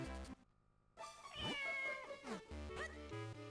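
Cat meows in The Legend of Zelda: Minish Cap, a short game sound effect heard alone, with one clear rising and falling meow over chiptune music.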